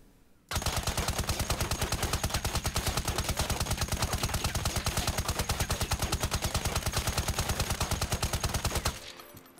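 Sustained automatic gunfire in the shooter game Ironsight, one loud unbroken burst of rapid evenly spaced shots lasting about eight seconds, close and with no talk.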